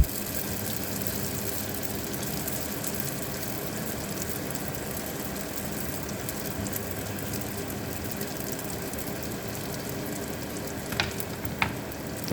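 Cambodian bread sticks fry in hot oil over lowered heat, giving a steady, even sizzle and bubbling throughout, with a couple of faint clinks near the end.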